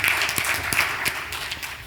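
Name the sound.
audience applause for a panel speaker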